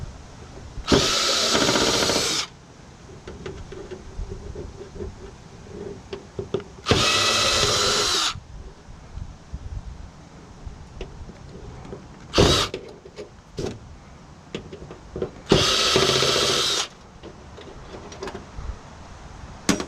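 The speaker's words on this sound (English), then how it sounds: "Now I'll take these screws out." A power drill backs screws out of a flat screen TV being scrapped, running in four separate bursts of about a second or two each, with quieter handling and clatter of parts in between.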